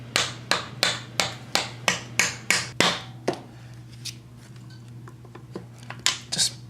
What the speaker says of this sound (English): And then we're gonna hit this with a hammer, and our wrist pin is gonna come out from the front.